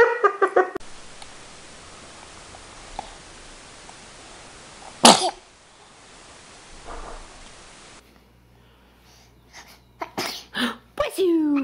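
A single small, sharp sneeze from a baby breaks a quiet stretch, with soft rustling around it and a voice talking near the end.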